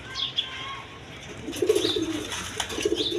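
Black Diamond pigeons at a pigeon farm give a couple of low, throaty coos in the second half, close by, while faint higher chirps from other birds flutter through the background.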